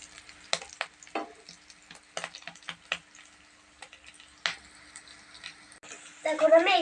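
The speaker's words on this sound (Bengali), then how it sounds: "এখন আমি কিছু সময় নেড়ে চেড়ে আস্তে আস্তে ভেজে নেব" A pan mixture of egg, chopped potato and puffed rice is stirred and fried, giving scattered scraping clicks over a faint sizzle, with a voice speaking briefly near the end.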